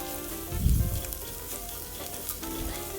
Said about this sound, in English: Add your bell pepper and keep stirring. Keep stirring like you are doing vegetable stir frying.